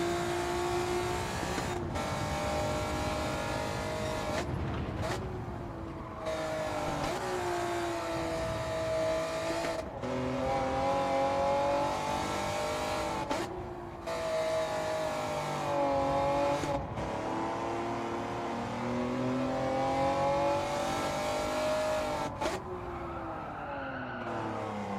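A car in a racing video game slides and skids continuously, its engine droning and revving loudly while tires squeal through long drifts, with brief drops where the throttle lifts.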